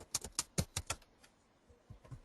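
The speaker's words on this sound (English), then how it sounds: "Manually, I am typing it." Typing on a computer keyboard, a quick burst of several clicking keystrokes followed by a pause and a few more taps, close and clear.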